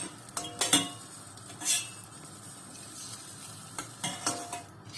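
Fried lokma dough balls being stirred through cooled syrup in a pot, with several close clinks and scrapes of a utensil against metal and a faint wet sizzle between the strokes.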